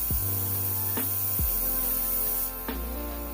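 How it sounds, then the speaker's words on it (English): A Luminess airbrush system runs with a steady compressor hum while its spray hisses, going from light to harder. Sharp clicks punctuate the spray at intervals. "So, this is a light spray, and then as you go back, it's a harder spray"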